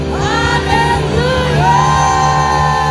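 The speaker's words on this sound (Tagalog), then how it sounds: "lahat na nagmamahal sa Panginoon ay sumigaw na hallelujah!" A church congregation at an anniversary worship concert shouts hallelujah together, a loud sustained crowd roar with overlapping voices over ringing musical tones for about three seconds.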